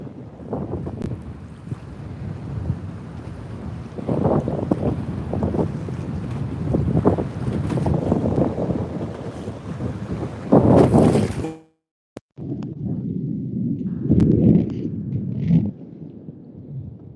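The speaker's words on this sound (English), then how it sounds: "Type the word wind in the chat if you can hear that wind" Strong wind buffets the microphone in a continuous, loud roar during a bass fishing outing, with a brief dropout near the end before the gusting resumes.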